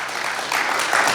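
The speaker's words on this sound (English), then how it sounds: "let's give another round of applause for our mayor here" An audience at a Black History Month lecture gives a round of applause for the mayor, a brief burst of steady clapping that swells partway through.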